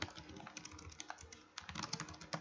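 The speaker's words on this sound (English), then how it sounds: "I want you to work on your typing a little bit" Quick, uneven keystrokes clatter on a computer keyboard, close and fairly quiet, with short bursts and brief pauses while someone types out a sentence.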